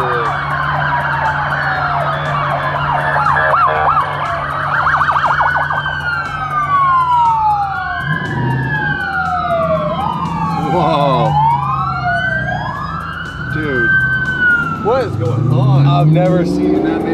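Several police car sirens wail and yelp loudly as four or five police cars pass close by, overlapping tones sweeping up and down, with traffic rumble underneath.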